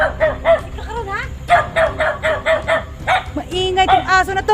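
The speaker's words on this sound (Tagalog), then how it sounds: "Maingay tong aso na to." A dog barks noisily near a house in a rapid string of loud yapping barks and whining yelps, with a person talking over it and a rooster faintly in the background.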